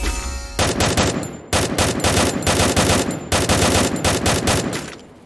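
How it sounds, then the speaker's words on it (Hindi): Automatic gunfire in a battle royale video game: dense, loud bursts of rapid shots in several long strings, separated by brief gaps, close and harsh, with no talking. "ये फायर कौन कर रहा है?"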